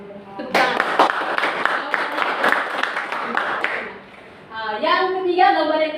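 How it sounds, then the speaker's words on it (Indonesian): Students in a history classroom clap their hands in a brisk burst of close, dense applause lasting a few seconds, which then stops as a teacher resumes talking. "Tepuk tangan."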